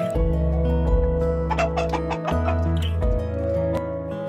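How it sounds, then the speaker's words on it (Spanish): Backyard hens cluck loudly and close, a cluster of overlapping rhythmic clucks and a few sharper calls from the flock, with no talking. "Hay que cuidarlas muy bien a las gallinas para que estén así de fuertes y canten."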